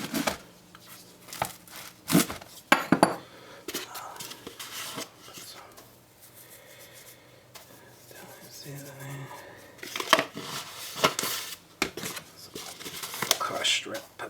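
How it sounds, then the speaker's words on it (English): A freshly baked pizza from an outdoor pizza oven is cut with a series of sharp crunchy slicing strokes and scrapes, irregular and close, separated by quieter gaps, with soft speech now and then. "Let me quickly cut this."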